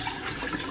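Hot water runs steadily from a kitchen sink tap during the rinsing of dishwasher parts, a brief continuous splashing gush with no voices.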